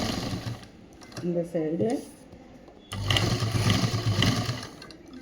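A sewing machine stitches a government school uniform shirt in short bursts of rapid mechanical whirring, a brief run then a longer steady stretch, with a voice speaking close by in between.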